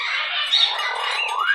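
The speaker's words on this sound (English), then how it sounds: "What a beautiful bird you are. Listen to you cry." A pet bird squawks and cries continuously at close range, loud harsh calls running without pause and with no talk over them.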